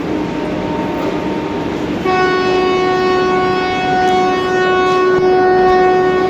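A train arrives on a rail line at the end of a route near Shimla, rumbling steadily, with a loud, sustained horn blast that starts about two seconds in and holds nearly to the end.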